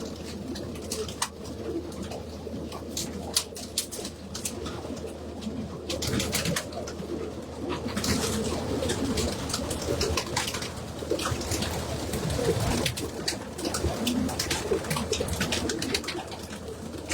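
Pigeons in a loft coo repeatedly amid a busy bed of fluttering, shuffling and scattered clicks, steady and moderately near for the whole stretch, with no talk.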